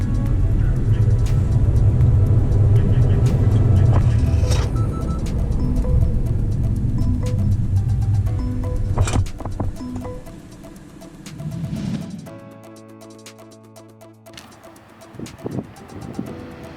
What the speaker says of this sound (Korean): ADAD로 정속 주행 중 EPB 버튼을 작동하는 상황입니다.